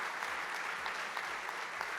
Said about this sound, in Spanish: Vamos a darle un aplauso a Dios por la vida de ellos.